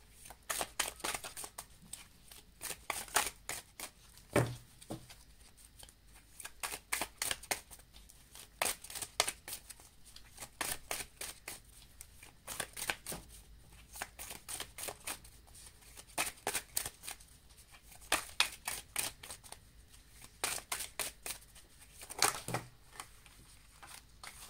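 Tarot cards shuffled for a cross-spread reading: dense runs of crisp riffling flutters in repeated bursts, close and steady across the whole stretch with short pauses between shuffles, no voices.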